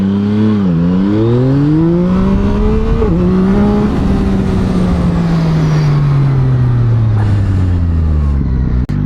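A 2024 Yamaha MT-09SP motorcycle engine revs hard during a wheelie, loud and close, its pitch rising and dipping through throttle changes and gear shifts, continuous for several seconds with no talking.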